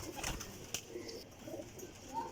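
Faint pigeon coos and small calls from loft pigeons close by, a few soft notes scattered over a quiet background.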